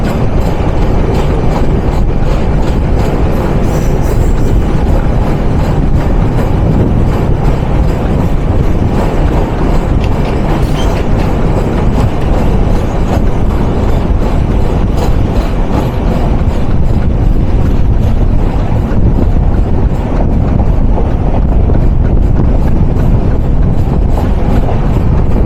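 A train runs from Narayanganj toward Gandaria station, giving a steady, loud rumble with rail clatter and wheel noise that continues without a break.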